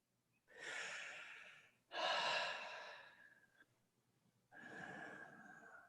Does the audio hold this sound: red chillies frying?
no